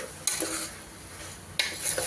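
Tripe pieces stirred into a hot tempering in a pan for Telangana boti curry, with two sharp scraping clinks of a utensil against the pan over a low background hum.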